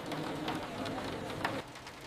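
Rain tapping on a large glass window, a soft steady patter with scattered brighter drops, fairly quiet and continuous with no voices.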